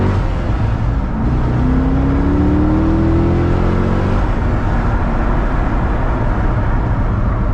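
A wrecked Chevrolet Corvette C6 Z06 pulling hard while driving, its V8 engine loud and close from inside the car, rising in pitch through a gear before a shift drops it to a steady, droning roar.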